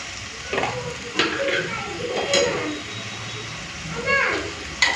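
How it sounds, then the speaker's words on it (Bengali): Browned onion and ground spice paste fry in a pan with a soft sizzle, broken by several clattering stirs of a spoon against the pan, while a person talks over the cooking. "পেঁয়াজটা লাল করে ভেজে নিয়েছি এখন বাটা মশলাটা দিয়ে দিই"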